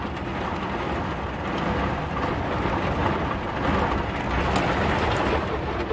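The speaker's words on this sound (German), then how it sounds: "Jetzt haben wir richtig Gewitter." Steady heavy rain drums on a truck cab during a thunderstorm, a dense continuous wash of noise with no distinct thunderclap standing out, heard alone without talk.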